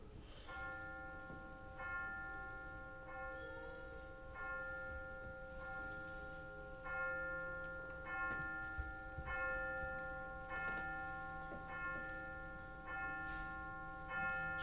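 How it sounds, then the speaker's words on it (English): Clock chimes striking midnight, a sequence of bright ringing bell strokes spaced roughly a second or so apart, each tone sustaining and overlapping into the next, fairly faint and unaccompanied by speech. "At the stroke of midnight, Clara was pulled from her sleep by the clock chimes."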